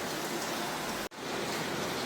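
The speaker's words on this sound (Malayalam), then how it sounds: "പുറത്ത് നല്ല മഴയാണ്" Heavy rain pours down outside a home kitchen as a steady, dense hiss with no talk, broken by one brief dropout midway.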